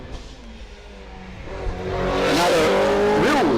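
A Mitsubishi Evo 7 race car at a motorsport test day accelerating past, its engine rising from a distant drone to a loud, close revving roar with gear changes near the end.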